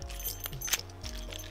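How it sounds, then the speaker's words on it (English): A Foley effect of a set of keys jingling as they fly through the air: a brief bright metallic jangle with a couple of quick rattling accents, close and clear. "good sound effects of the keys kind of flying through the air"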